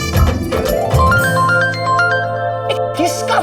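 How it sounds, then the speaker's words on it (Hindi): A mobile phone in an office plays a loud melodic ringtone in stepped tones. Background music and other noise run under it. "किसका फोन बजा?"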